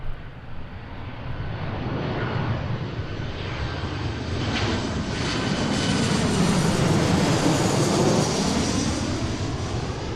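Alaska Airlines airliner on final approach to land, about three-quarters of a mile from the runway, its jet engine roar building steadily and swelling louder as it passes overhead, continuous with no talk.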